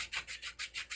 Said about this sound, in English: good hard sanding across there flat